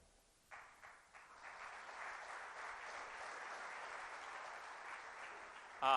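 Audience at a lecture breaks into applause, starting with a few scattered claps that swell into steady, moderately quiet clapping from a mid-sized room.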